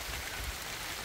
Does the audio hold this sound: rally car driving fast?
no